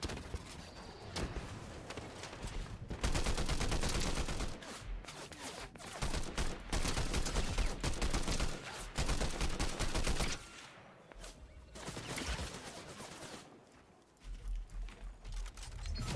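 Enemy gunfire in a shooter video game, rapid bursts of shots crackling in dense volleys, loud and near, easing briefly before picking up again toward the end.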